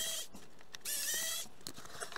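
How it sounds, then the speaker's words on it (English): Screws are backed out of a small, cheap solar garden light with a hand tool, giving quiet close bursts of scraping, squeaky turning with short pauses between them and no talking. "We might just remove those screws and see what happens."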